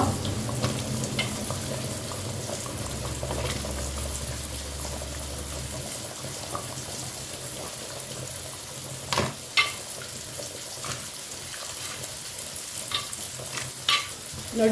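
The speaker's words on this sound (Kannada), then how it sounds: "ಇವಾಗ ನಾವು ಅರಸಿನ ಮತ್ತು ಉಪ್ಪನ್ನು ಬೆರೆಸಿಟ್ಟ ಮೀನನ್ನು ಹಾಕುವ" Catfish coated in turmeric and salt dropped into a boiling Mangalorean pulimunchi curry, a steady close bubbling and sizzling simmer with scattered clinks and stirring knocks, no talk over it.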